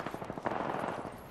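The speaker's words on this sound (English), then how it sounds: "They're shooting at me." Rapid automatic gunfire in the video game Apex Legends, a dense run of quick shots, loud and steady throughout the brief moment, with game noise behind it.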